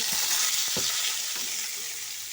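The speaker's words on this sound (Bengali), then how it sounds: "এবার আমি কুচু করে কাটা আমগুলো দিয়ে দেব" Chopped raw mango tipped into hot oil tempered with panch phoron bursts into a loud, steady sizzle, with a few soft stirring knocks of a spoon against the pan and no voices.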